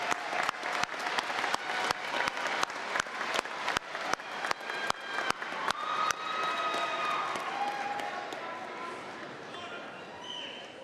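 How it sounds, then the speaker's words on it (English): A large crowd at a spring commencement ceremony claps for families and friends, first in loud, evenly spaced rhythmic claps, then dissolving into a broad, continuous wash of applause and crowd noise that fades slightly. "Let's give them a round of applause."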